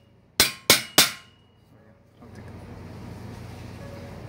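Three sharp, evenly spaced metal hammer blows ring out up close while a motorcycle exhaust pipe on a Twister is knocked into place, followed by low steady background noise and faint movement.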